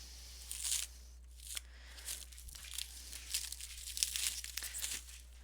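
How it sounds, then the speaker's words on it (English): Cellophane wrapping is pulled off a parcel in a string of crinkling, crackling rustles, close and fairly quiet, with short pauses between handfuls. "And it was all wrapped up in cellophane"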